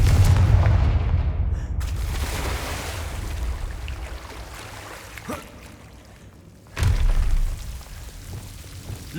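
The Confringo blasting spell goes off in Hogwarts Legacy with deep, booming explosions, a heavy rumble at the start and another loud blast near the end, over a low ambient game background.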